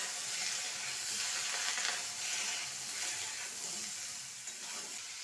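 Cut beans and potatoes frying and being stirred together in a pan for a vegetarian Bengali dish, a soft continuous sizzle and hiss with faint scraping, fairly quiet and without voices.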